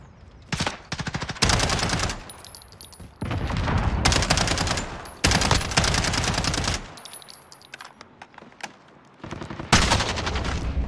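Automatic gunfire rattles in Call of Duty Modern Warfare Gun Game and Hardpoint matches, with repeated loud bursts of rapid shots broken by short pauses across the whole stretch.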